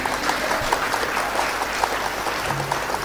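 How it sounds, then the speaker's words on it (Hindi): Steady, dense audience applause at a Hindi kavi sammelan poetry gathering, a full hall of clapping sustained evenly throughout with a few louder individual claps near the front. "एक बार जोरदार तालियां बजाइए।"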